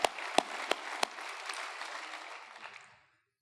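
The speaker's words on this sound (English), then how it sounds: "She does deserve a round of applause." Audience applause at a gala, starting with a few sharp individual claps that swell into a room-filling patter, then thinning and fading out after about three seconds.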